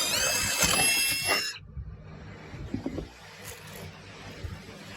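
A power drill bores holes for cabinet hardware through a scrap wood jig, whining at high speed for about a second and a half before stopping, followed by quieter handling sounds.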